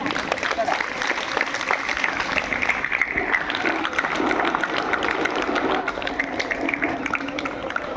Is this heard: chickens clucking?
no